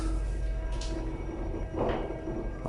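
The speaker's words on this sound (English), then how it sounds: "Doors opening." Old lift sliding doors in a town centre car park open with a soft mechanical rumble and a brief whir, steady hum underneath, heard close and fairly quiet.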